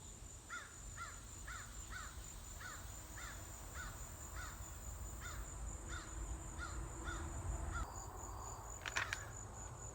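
Crows cawing in a field: a steady series of harsh caws, roughly two per second for several seconds, heard at a distance over a faint insect hum and background noise.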